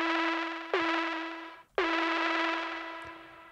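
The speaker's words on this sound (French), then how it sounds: "donc je vais venir appliquer un peu de reverb directement." A bright synth note with added reverb, played twice with a short gap, each hit trailing off into a soft, spacious tail.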